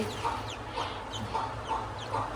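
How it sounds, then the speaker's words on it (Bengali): Soft, repeated clucking from a hen with faint high peeps from chicks, close by in a quiet setting, no one speaking. "মুরগির বাচ্চা হয়েছে"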